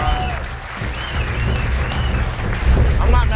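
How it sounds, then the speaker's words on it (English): Sold-out comedy club crowd at the Ice House in Pasadena applauding steadily, a dense wash of clapping that swells slightly toward the end, with some voices mixed in. "Ice House, Pasadena, sold out crowd."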